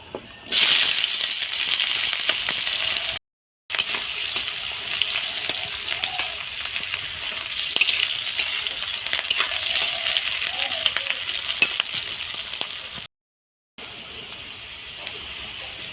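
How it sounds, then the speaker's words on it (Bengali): Green chilies and onions sizzle steadily in a hot village wok, a continuous close frying hiss with occasional faint stirring clinks, broken by two brief silent gaps. "কড়াইতে দিয়ে দিলাম কাঁচা লঙ্কা আর পেঁয়াজ"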